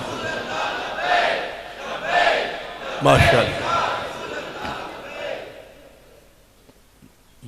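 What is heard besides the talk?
crowd chanting religious slogans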